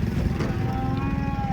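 An old cow being unloaded from a truck lets out a low, drawn-out moo, loud and close, over a steady rumble of engine noise in the background.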